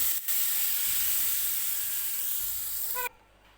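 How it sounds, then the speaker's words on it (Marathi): Hot tadka tempering poured into ground coconut chutney for idli and dosa, a loud bright sizzle and hiss held steadily for about three seconds before cutting off sharply. "आता हा जो तडका तयार केलेला आहे तो मी या आपण जे बारीक करून घेतलेलं खोबरं आहे त्याच्यामध्ये टाकणार आहे"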